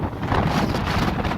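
Strong wind roars steadily across the microphone on a high mountain summit at about 9,215 feet in Colorado, a dense, continuous buffeting rush with no pauses.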